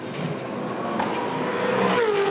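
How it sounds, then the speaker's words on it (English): A V8 Supercar engine screams at high revs in second gear from a distance at the Adelaide 500, holding a steady roaring pitch with slight rises as it accelerates. "it's all second gear, really high in the revs"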